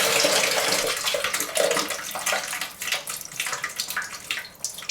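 Water gushes from a toilet tank opening into a bucket below, a loud close continuous splashing and trickling that eases off slightly toward the end, with no talk.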